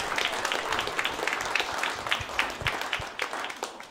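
Audience applause at a movie world premiere, a moderate crowd clapping with distinct individual claps audible, fairly even and slowly thinning toward the end.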